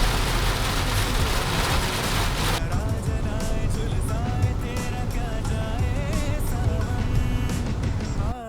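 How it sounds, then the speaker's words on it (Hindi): Heavy monsoon rain pounds steadily on a car on a highway in Gujarat, a dense continuous wash of drops with road and engine rumble beneath, loud and unbroken throughout. "झमाझम तेज बारिश"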